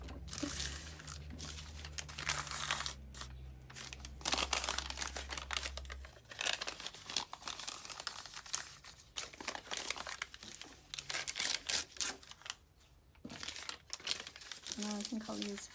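Sheets of peach-coloured paper are torn and crinkled while a small handmade notebook is assembled, giving a continuous close rustling and ripping with a low hum beneath and a voice faintly present.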